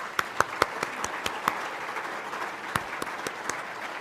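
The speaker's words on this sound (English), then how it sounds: "Thank you, Party Helpers. Round of applause." Applause from attendees at a meeting, a moderate group clapping steadily with several distinct sharp claps popping out, heard in a room at medium distance.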